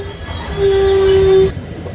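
Gol Gumbaz Express sleeper train pulling into Madhur station, a loud sustained metallic wheel squeal ringing for about a second over heavy rolling rumble, then cutting off as the rumble continues.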